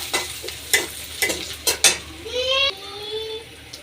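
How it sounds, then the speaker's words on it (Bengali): Potatoes and fried eggs cooking in a pan for an egg-and-potato curry, with sharp stirring scrapes and clatter over a steady sizzle, plus a brief squeaky tone near the end. "আলু আর এই যে ডিম ভেজেছি তা দিয়ে রান্না করতেছি"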